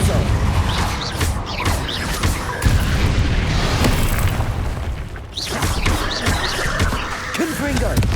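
Confringo and Depulso spells cast in Hogwarts Legacy land as repeated booming blasts and crashes with whooshing magical effects, loud and close, under a player shouting spell names.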